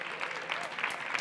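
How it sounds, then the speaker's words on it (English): A school audience claps for parents standing to be recognized, a brief burst of fairly soft, even applause in a hall. "I applaud the parents"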